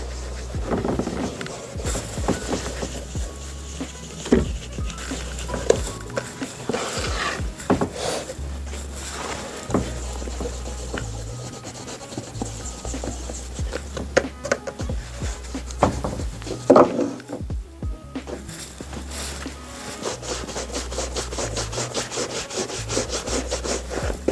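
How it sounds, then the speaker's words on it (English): Light tan polish being rubbed by hand onto old 1980s Grenson leather boots, a steady, close scrubbing and rubbing that runs continuously with short pauses and no talk. "we're just going to rub this all over here in hopes that the colour comes back to life"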